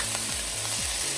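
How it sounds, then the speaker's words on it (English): Mussels, shallot and garlic sizzling in olive oil and butter in a pan, a loud continuous hiss of frying close up, with a low tonal hum rising and falling underneath and no voices. "I'm gonna let all this cook together."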